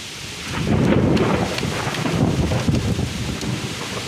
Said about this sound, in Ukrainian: І блискає, і гримить, аби хоч лиха не знайшло.